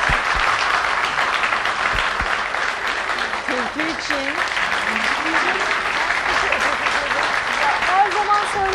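An audience at a televised event in Tunceli claps steadily and loudly throughout while a presenter talks over the applause.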